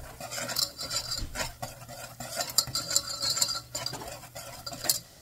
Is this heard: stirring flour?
yes